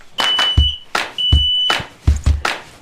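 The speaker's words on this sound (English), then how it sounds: "Right here is our propane detector. You push that and check every day. Let it go through its cycle." A propane detector in a 2021 Heartland Milestone 317RL RV runs its self-test, sounding a thin high beep tone held twice amid loud clunks and thumps close by.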